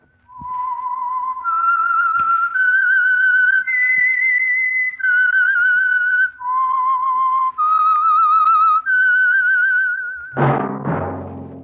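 Theme whistle signal for The Whistler radio program, a clear solo whistled melody of about a dozen sustained notes rising and falling, loud and alone, ending in a brief burst of orchestral sound.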